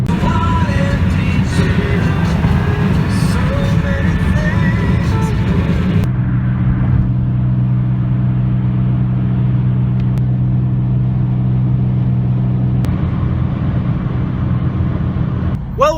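A car's engine and road rumble drone steadily on a long drive toward Albuquerque, New Mexico, loud and continuous, with the cabin tone shifting partway through.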